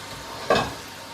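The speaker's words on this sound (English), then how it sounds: "The burger's just simmering away, kind of thing, just cooking nice, deep and evenly." A cheeseburger patty frying in a pan gives a soft, steady sizzle, broken by one brief louder hiss and crackle midway.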